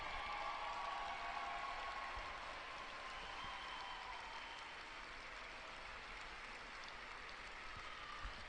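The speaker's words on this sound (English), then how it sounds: "the Castleford Tigers take the applause from the fans" Fans applaud the Castleford Tigers at the 2018 Women's Rugby League Challenge Cup Final against Leeds Rhinos, a steady, fairly faint wash of stadium clapping that holds evenly throughout without a break.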